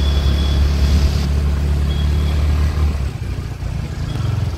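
A car pulls up near a station in Lonavala, its engine a close, steady low rumble that eases off slightly toward the end.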